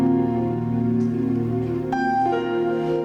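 A Yamaha Montage keyboard plays layered sounds as a rich sustained chord, then shifts to new notes partway through. The tones ring full and steady with no voices.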